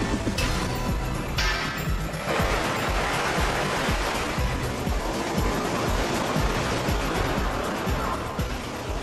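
A wave pool machine at an indoor beach pushes out a breaking wave: a steady, full-bodied roar of crashing and churning water, like surf, sustained and fairly loud throughout with no voices.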